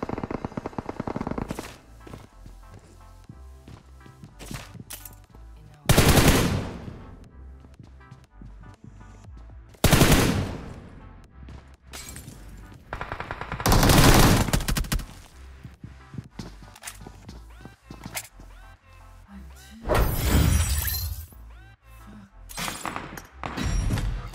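Gunfire in the mobile battle royale game PUBG Mobile: repeated bursts of automatic rifle fire and sharp single shots, loud and close, recurring every few seconds over quieter game ambience.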